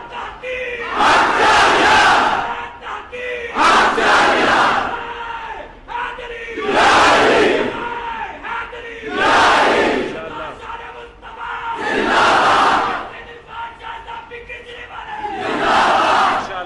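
Large gathering at a Sufi religious address chants slogans loudly in call-and-response waves, roughly six powerful bursts of massed voices separated by brief pauses.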